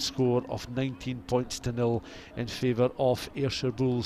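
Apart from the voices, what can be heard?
None of the usual background noises is heard.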